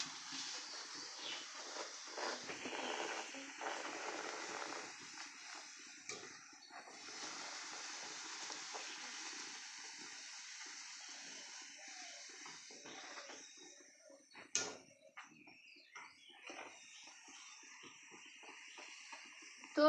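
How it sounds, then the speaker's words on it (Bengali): Luchi, puffed Bengali flatbread, frying in hot oil give a soft, steady sizzle and hiss with short bursts of louder bubbling, faint and close up, with no talk. "আমি এভাবে করে সমস্ত লুচিগুলো ভেজে নেব"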